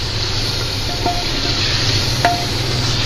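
Spices and green chilies fry in a pan for mint pulao, giving a steady close sizzle throughout with a couple of faint stirring clicks and no talking.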